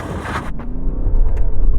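A BMW with a 3-litre straight-six diesel and 8-speed automatic launches hard under launch control, a loud, dense engine roar that builds steadily as it accelerates away.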